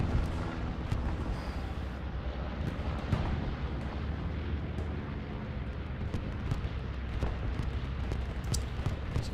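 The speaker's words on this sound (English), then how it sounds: "Seems like a French bombing run?" Continuous heavy rumble of bombing-run explosions in the World War II shooter game Hell Let Loose, on the Hürtgen Forest map: a dense, loud, low roar with scattered sharper blasts, sustained throughout without talk.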